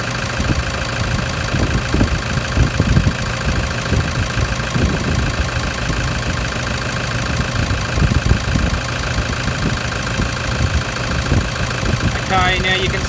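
A Toyota Hilux engine idles steadily under heavy load from a high-output alternator, a low continuous hum with faint knocking pulses, close and moderate in level.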